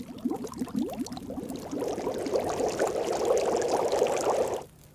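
Water poured into a pot to boil in The Long Dark survival game, a steady liquid splash that builds and holds for several seconds, then cuts off abruptly near the end.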